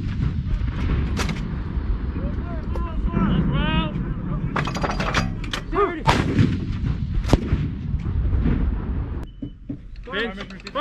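A U.S. Army howitzer battery fires rounds during a field exercise, with several loud, booming blasts and sharp reports spread across the stretch, some close and some echoing farther off, with voices faintly heard in between.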